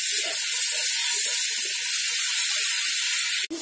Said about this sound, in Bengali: দিয়ে আমি এটাকে ভালো করে কষিয়ে নেবো। দেখুন তেলটা আস্তে আস্তে বেরিয়ে যাবে আমার।